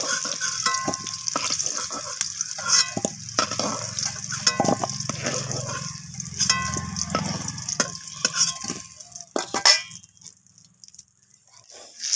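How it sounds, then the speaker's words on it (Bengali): Kohlrabi pieces fry in hot oil in a pan with a steady crackling sizzle, broken by ladle scrapes and stirring clatter as they are lifted out. "ওলকপিটাও এখানে লালচে করে ভাজা হয়ে গেছে এরপর ওলকপিটা আমি উঠিয়ে নিচ্ছি তেল থেকে"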